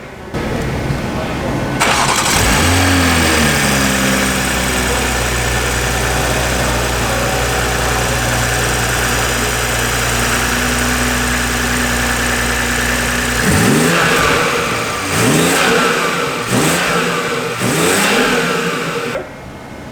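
A BMW M340i with a B58 engine and MST intake cranks and fires, settles into a loud steady idle, then revs sharply three or four times in quick rising-and-falling bursts, close by with voices in the background.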